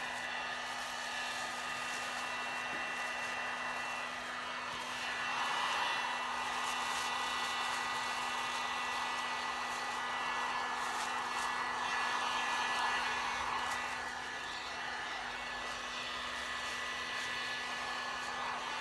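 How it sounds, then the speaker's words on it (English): A heat gun blows continuously to melt material, a steady airy whoosh with a motor hum that swells slightly at times and runs for nearly twenty seconds without talk. "So now I'm going to take my heat gun. Melt it up again."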